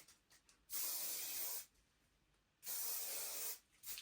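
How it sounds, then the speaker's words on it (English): Two long bursts of hairspray from an aerosol can hiss, each about a second, separated by a short quiet pause, close and fairly loud. "I'm going to spray a little bit more hairspray"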